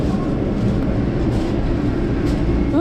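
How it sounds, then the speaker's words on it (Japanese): A Toyama LRT light rail tram pulls into the station, with a steady low rumble and hum of the car rolling in, loud and continuous throughout with no talk. "そんな LRT な電車が到着し乗車します。"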